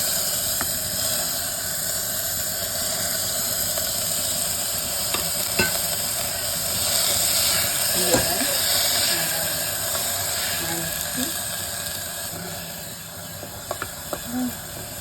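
Mixed vegetables tipped into a tablespoon of hot oil tempered with curry leaves and mustard seeds, sizzling in a steady, close hiss for the whole stretch with occasional light stirring clicks and no talking.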